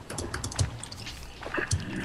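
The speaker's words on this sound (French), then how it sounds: "c'est ma souris que je massacre. Ah ouais. Ça fait étrangement un bruit de clavier" A computer mouse is clicked hard and repeatedly during a Terraria gaming session, giving sharp, keyboard-like taps in irregular clusters, faint and close.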